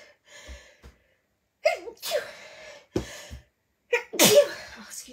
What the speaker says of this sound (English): Oh, God, sneeze.